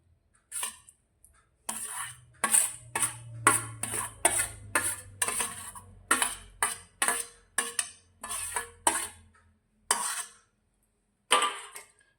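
A spoon clinks and scrapes against a bowl in about a dozen sharp, evenly spaced strikes while crushed green chillies are mixed with lemon juice, with short pauses near the end.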